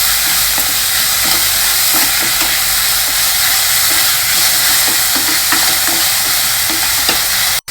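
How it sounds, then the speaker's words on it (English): Finely chopped onions, about three, lightly frying in oil for a dal side dish, a steady loud sizzle with regular scraping stirs throughout, ending abruptly. "And lightly fry the onions."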